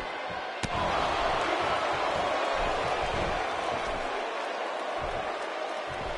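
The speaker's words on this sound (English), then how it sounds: "And Byron, I can barely hear myself think over this crowd here in Pontiac, Michigan." A packed tag-team wrestling arena crowd in Pontiac, Michigan roars continuously, a broad loud wash of cheering and noise with a sharp slam near the start, a commentator's voice faintly under it.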